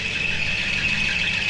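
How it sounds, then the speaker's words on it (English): Air compressor running in a workshop during a Massey Ferguson 1200 tractor cab reassembly, a steady droning hum with a high whine, likely from a worn belt, continuous and fairly loud with no talk. "Compressor's going off on one."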